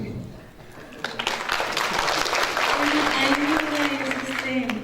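Audience applause at a Mexican government labor-agency presentation in Guanajuato, a broad rustle of clapping that swells after the first second and holds steady at moderate loudness, with a voice talking over it.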